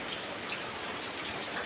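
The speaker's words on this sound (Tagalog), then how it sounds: "Ayan siya, umuulan pa rin dito sa amin ngayon." Rain keeps falling steadily outside a house in the Philippines, a soft continuous patter and hiss of drops on surfaces, fairly faint and with no voices.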